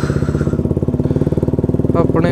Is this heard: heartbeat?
no